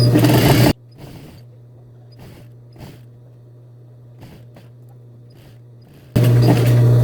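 A sewing machine runs loudly at the start and again at the end while stitching a normal 1 cm seam on trousers, with a quieter gap of light handling noises and a low hum between the two bursts.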